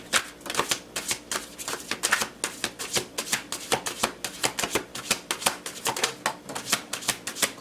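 Tarot deck shuffled by hand close up, a rapid series of crisp papery riffles and slaps in an uneven but continuous rhythm, loud and alone without talk.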